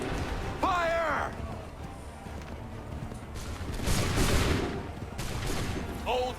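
Musket volleys and battle noise in Assassin's Creed 3, loud crackling gunfire swelling mid-way amid rumbling battlefield chaos, with shouted voices and commands heard over the fighting.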